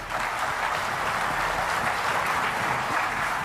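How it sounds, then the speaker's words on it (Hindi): An audience applauds at a televised Indian courtroom-style talk show with a Union Minister, a sustained, even wall of clapping that carries on for several seconds without speech. "वो लोग हाथ उठा के तालियां बजा के स्वागत करें।"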